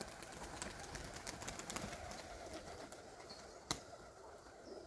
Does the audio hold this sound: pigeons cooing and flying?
yes